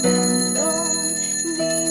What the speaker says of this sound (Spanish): Suenan las campanas,